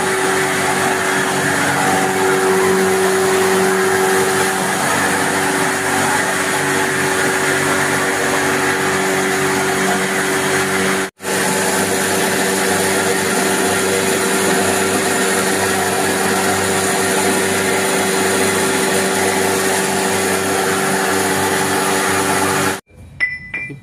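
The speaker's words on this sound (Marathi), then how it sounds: "त्यानंतर त्याची पूर्णपणे भुकटी करण्यासाठीची प्रोसिजर चालू आहे आणि मशीन अतिशय सुंदर अशा पद्धतीची आहे" A machine grinds dried turmeric roots into powder, a loud, steady whirring drone that runs without pause, cuts out briefly near the middle, then resumes and stops at the end. No one speaks over it.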